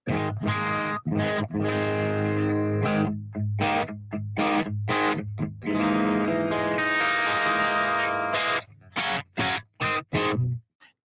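An electric guitar through the clean channel of an EVH amp, with the overdrive in use. Loud, gritty riffs and sustained chords alternate with short choppy stabs and clipped pauses, and no one talks over the playing.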